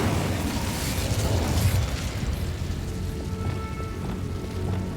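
Incendio fire spell cast in Hogwarts Legacy, a roaring whoosh of flame that swells for about two seconds, then fades into a low crackling rumble.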